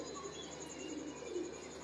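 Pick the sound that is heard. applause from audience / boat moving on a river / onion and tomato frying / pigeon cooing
pigeon cooing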